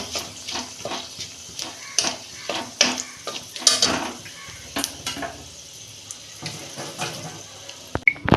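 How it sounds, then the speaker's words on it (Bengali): Panch phoron, bay leaves and a dried red chilli crackle in hot oil while a spoon clatters against the pan, a soft sizzle under repeated close metallic taps and scrapes. "পাঁচ ফোড়ন দিচ্ছি অল্প ফোড়নে একটা শুকনো লঙ্কা দিচ্ছি"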